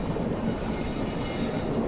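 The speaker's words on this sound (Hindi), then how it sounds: "यहाँ पर अपने से क्रॉस होने आती हुई इंदौर से चलकर नैनपुर की ओर जाने वाली पंचवली एक्सप्रेस" The Indore–Nainpur Panchvalley Express, a train of ICF coaches, passes on the third line with a dense, continuous rumble and rail noise, steady and close throughout, with no voices.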